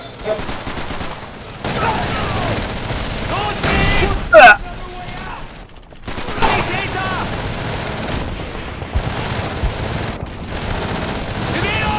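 A Thompson submachine gun firing in Call of Duty 3, loud rapid bursts of automatic fire with explosions and battle noise, broken by short pauses, with a voice talking over parts of it.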